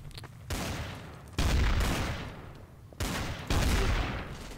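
Gunfire in Garry's Mod Trouble in Terrorist Town rings out in loud, close bursts, with several distinct volleys separated by short gaps and no talking over them.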